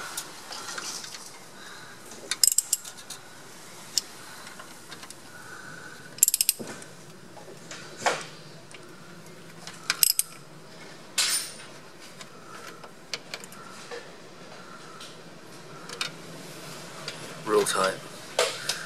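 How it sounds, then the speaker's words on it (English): Ratchet wrench tightening the oil pump bolts on a Chrysler 318 V8, with short bursts of clicking in repeated spells, fairly close, against quiet workshop background and some light metallic clinks. "tighten it down little by little, swapping between each one."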